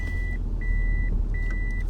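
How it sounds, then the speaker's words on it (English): Repeated in-cabin reversing beeps from a Toyota Chaser, three steady evenly spaced tones sounding alone over a low idling engine hum. "All Japanese cars beep on the inside when you put them in reverse."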